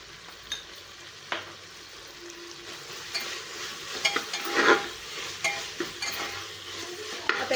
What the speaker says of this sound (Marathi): पाच मिनिट आपण ह्या भाज्या परतून घेणार आहे